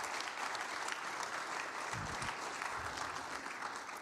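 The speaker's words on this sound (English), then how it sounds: "A round of applause for our one World War II veteran in the room." An audience at an evening talk on women in the US Air Corps applauds a World War II veteran, with continuous clapping and a few low murmurs or voices partway through.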